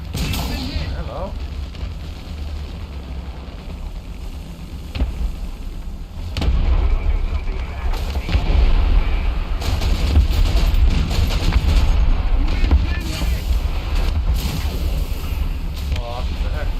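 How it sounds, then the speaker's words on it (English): Artillery explosions in War Thunder during tank combat land as deep, rumbling booms that grow heavier and denser partway through, with wind-like roar and battle noise continuing throughout. "Artillery strike"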